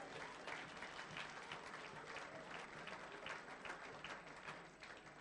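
A church congregation applauds together during a Sunday service, producing dense, sustained clapping from many hands that stays fairly even throughout, heard at some distance with no clear speech.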